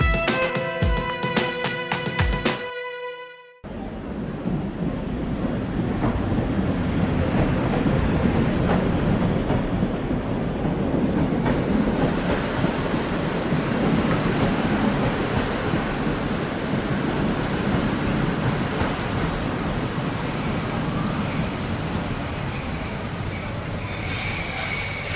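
A train pulls into Trieste station after a short burst of musical tones, its rumble building with rolling wheels and clattering cars, then high sustained wheel squeals rising near the end as it slows.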